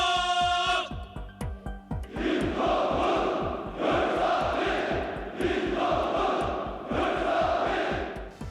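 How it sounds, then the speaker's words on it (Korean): A massive youth league congress crowd in a large hall roars out slogans in thunderous unison bursts, repeated in rhythmic waves after an opening tone, with cheering between chants. "구호를 외치거나 함성을 지르는 소리가 무서울 정도로 우렁찹니다"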